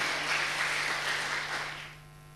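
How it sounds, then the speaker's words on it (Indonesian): A church congregation claps during a sermon, a moderate spread of applause that holds steady and then fades out toward the end, set against a low electrical hum with no talking. "Tepuk tangan dulu untuk Tuhan Yesus."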